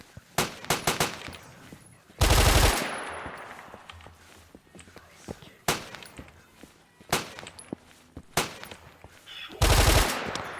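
Machine gun fire in a FNAF video game, with short loud bursts and single shots that start and stop irregularly, separated by quieter gaps of metallic clatter.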